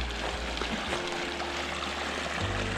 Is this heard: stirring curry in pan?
no